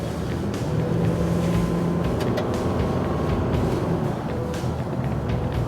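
A pickup truck's 2.5-litre engine hums steadily under heavy road and wind noise while driving, continuous and fairly loud, with no voices.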